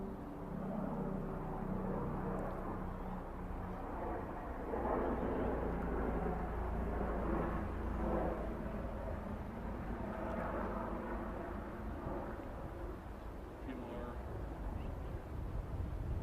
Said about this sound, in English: the plane is going overhead